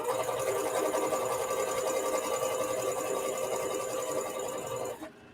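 Sewing machine back stitching a shirt, a close, steady mechanical whir with fast needle clatter running continuously before cutting off near the end.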